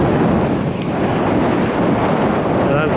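Strong wind buffets a microphone during a bike ride on smooth asphalt near the Huffman and Liberty County line, a loud, continuous roar without a break.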